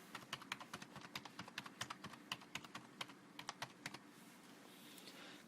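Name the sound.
typing a card number on a keyboard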